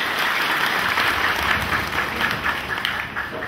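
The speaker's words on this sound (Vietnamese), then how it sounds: "Xin cộng đoàn nổ một tràng pháo tay chào mừng quý cha." A church congregation applauds to welcome priests at a thanksgiving Mass for a newly ordained priest, a dense, steady wash of clapping from many hands filling the hall throughout.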